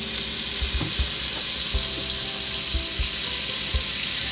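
Butter melting and sizzling in a hot pan for a pasta dish, a steady close hiss with a few soft low knocks and no talking.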